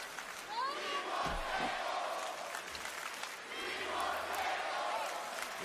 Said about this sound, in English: Loud crowd here in Savannah.